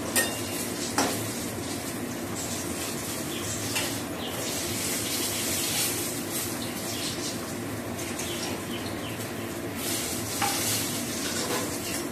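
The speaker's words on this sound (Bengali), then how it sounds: "এরকম বেগুন ভেজে নিচ্ছি" Eggplant slices fry in a pan in a home kitchen, a steady loud sizzle throughout with occasional clinks and scrapes of a utensil against the pan.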